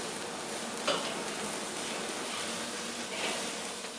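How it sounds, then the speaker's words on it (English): Burger patties sizzle on a Weber kettle grill over open flames, a steady close crackling hiss that runs unbroken with no voices. "Getting a good sizzle on this side."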